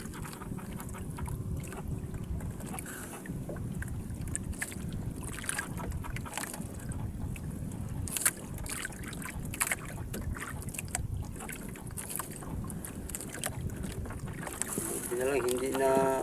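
A small fishing boat rides a reef on the open sea in strong wind and waves, with constant buffeting wind roar, water slapping and sloshing against the hull, and people talking throughout.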